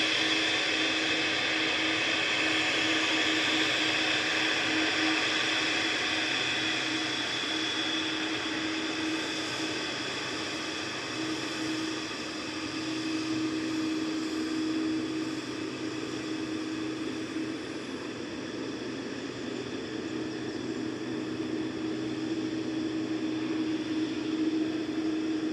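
Steady, even jet roar with a sustained whine from a TUI Boeing 787-8 Dreamliner departing Manchester Airport for Alicante, holding at a constant level throughout with no talking.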